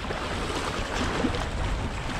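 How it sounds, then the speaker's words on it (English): Choppy waves wash steadily near the shore of a flooded spillway, a continuous broadband rush with no voices. "These waves are getting crazy."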